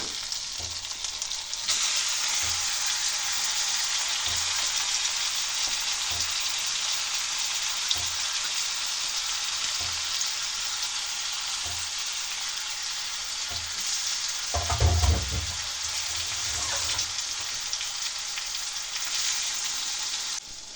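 Marinated olives fry in hot oil for a chutney, producing a loud, constant close sizzle with a brief clattering stir around the middle and no talking.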